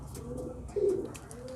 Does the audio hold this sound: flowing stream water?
no